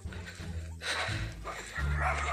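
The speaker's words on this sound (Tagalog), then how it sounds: "So tara, meron mga aso dito." Dogs barking outdoors near a rural planting area, several short barks and yips in separate bursts over a low background rumble, moderately close.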